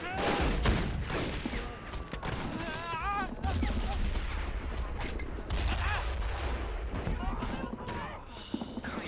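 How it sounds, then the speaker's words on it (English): Mortar fire and battlefield gunfire rumble through a Men of War: Assault Squad 2 World War II skirmish in a Rising Sun mod, with repeated thuds and crackling shots over constant combat noise and game voices. "Mortars firing away."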